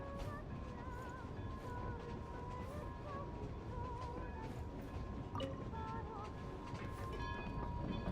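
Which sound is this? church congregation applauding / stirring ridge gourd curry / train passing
train passing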